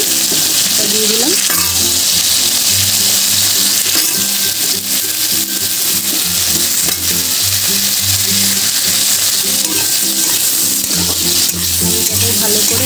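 Cut potatoes fry with onions in a loud, continuous sizzle close to the pan. Stirring adds scraping and clatter throughout, with a low steady hum underneath and no clear speech.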